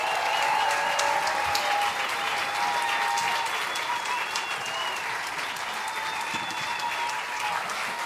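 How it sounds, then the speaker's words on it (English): Sustained audience applause fills the space for a comedy-science show at Woodford honouring Dr Karl Kruszelnicki's last performance there, a steady dense clapping throughout with faint cheering. "so can we get one more round of applause for that?"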